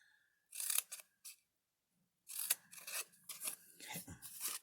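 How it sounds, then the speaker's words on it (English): Scissors snipping a small triangle out of paper or cardstock for a candy holder craft, a few short close crisp cuts separated by brief pauses. "Cut that little triangle out."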